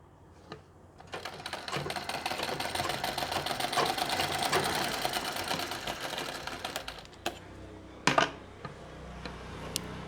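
A sewing machine stitches the pallu of a Nauvari saree in one fast, continuous mechanical run, then stops, followed by a few sharp clicks and handling noises at close range.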